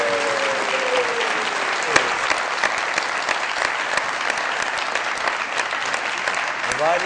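Sustained studio audience applause on a Pakistani comedy show as a contestant is invited up, steady dense clapping throughout with a couple of sharper claps and faint whoops.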